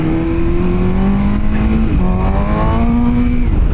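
A motorcycle accelerates hard, its engine note rising steadily in pitch through the gears, loud and close with no talking.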